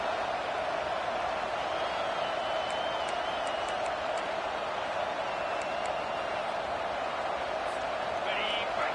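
Football stadium crowd at a Virginia Tech Hokies game: a constant, loud roar of many voices with scattered whistles, running steadily with a broadcast commentator talking over it.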